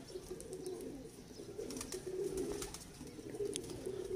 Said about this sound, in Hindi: ये मेरा जैनवन डब वाला कबूतर है दोस्तों, कोई क्रॉस नहीं है इसमें।